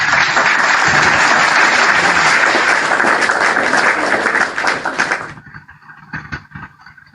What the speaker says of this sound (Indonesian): Tepuk tangan yang di bawah.